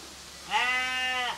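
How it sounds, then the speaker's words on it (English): Wet sheep in the rain gives a single loud, drawn-out bleat lasting under a second, standing clearly above quiet background hiss. "think there's a wet sheep in there somewhere."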